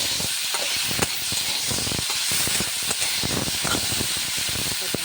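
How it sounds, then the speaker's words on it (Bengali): Fish frying in hot oil in a kadai, a dense continuous hiss and crackle of sizzling oil, loud and close, steady for the whole stretch with no talking. "মাছটা দিয়ে দিলাম কড়াইতে।"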